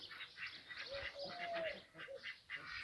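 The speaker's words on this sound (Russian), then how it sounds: "Зато как слышно всех птиц." Birds call on a foggy village morning in the countryside, a mix of nearby duck-like quacks and chirps with a faint honk, several overlapping calls heard close and fairly quiet.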